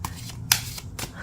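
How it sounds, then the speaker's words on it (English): Tarot cards shuffled by hand in a few quick, soft riffling bursts, close and quiet over a low room hum. "That's enough shuffling."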